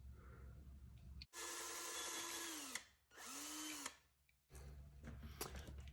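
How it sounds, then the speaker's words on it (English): A small power drill with a thin bit bores a small hole in two whining runs of about a second and a half each, clear and close. The motor pitch drops as each run winds down, and a shorter burst follows. "I'm going to use a very small drill bit to drill in the center of the hole here"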